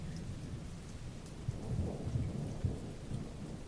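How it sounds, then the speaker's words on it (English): Outside, a thunderstorm lets steady rain patter down while low thunder rumbles rise and swell softly in the background, with no voices present. "there's a storm outside"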